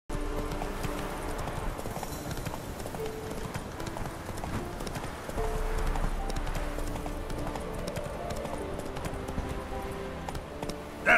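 Roach, a horse in The Witcher 3, gallops in a steady clip-clop of hooves that runs throughout, fairly loud and close, with faint ambient game sounds underneath.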